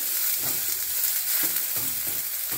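Sliced onions sizzle and crackle in hot oil with curry leaves and mustard seeds, a dense steady frying hiss broken by soft stirring scrapes, close and continuous with no talk.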